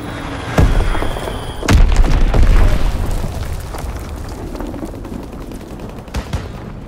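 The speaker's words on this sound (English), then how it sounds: "Dropping Fritz X bomb." Fritz X guided bomb dropped and exploding in the Call of Duty: WWII team deathmatch on a flak tower map, two sharp loud booms followed by a long rumbling blast and fading gunfire.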